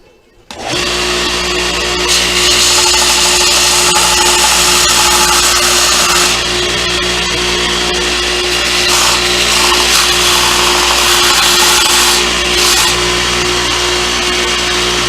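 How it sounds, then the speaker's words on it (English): An electric sander works on a Kydex holster for a Smith & Wesson M&P Shield 2.0 Compact pistol, giving a loud, steady, continuous whine that starts after a brief quiet moment and runs unbroken to the end. "Sander."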